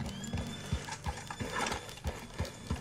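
A horse's hooves clip-clop on the ground in Red Dead Redemption 2, an even, close rhythm of roughly three strikes per second with faint mechanical clicking around it.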